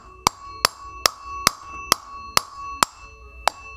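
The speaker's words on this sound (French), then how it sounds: "Un petit coup de marteau avec un bout de bois pour éviter de marquer le métal." Eight sharp, ringing knocks of a hammer striking through a wooden block onto metal, evenly spaced about half a second apart, close and clear with a metallic ring.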